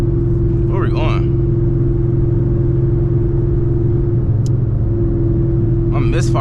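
Idling rumble of a 900-horsepower Chevrolet Camaro ZL1 V8 while driving, steady and loud throughout with uneven stumbling beats of a misfire, as someone talks briefly over it.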